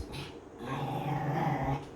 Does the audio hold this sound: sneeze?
no